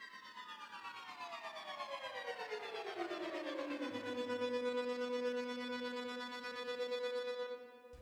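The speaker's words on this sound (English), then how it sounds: "we've got one more sound coming in, which is this sort of string sound with a B" A synthesized string patch sustains a note on B with tremolo, its tone gliding down over the first few seconds before settling into a steady, pulsing held pitch that cuts off near the end.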